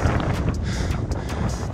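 Strong wind buffets the microphone on the Corno alle Scale mountain summit, a constant roaring gust with rhythmic thumps; no talking.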